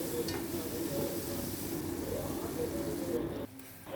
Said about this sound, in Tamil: எல்லாத்தையும் நல்லா வதங்க விடுங்க.